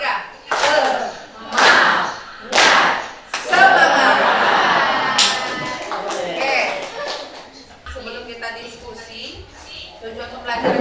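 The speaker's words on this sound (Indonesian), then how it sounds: "Oke, kita tepuk semangat dulu." A classroom of students doing a rhythmic spirit clap, several loud sharp bursts of group clapping in a beat, followed by voices talking and chatter.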